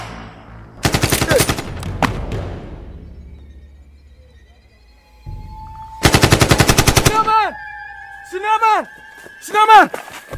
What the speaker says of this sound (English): Did you hear the gunshot?